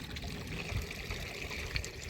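A buffalo drinks water, with a steady close trickling and slurping of liquid that runs throughout without talk.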